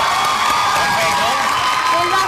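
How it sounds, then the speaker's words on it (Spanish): A studio audience breaks into dense applause and cheering on a live morning television show, loud and continuous throughout, with a host's voice mixed in. "un aplauso para Pedrito"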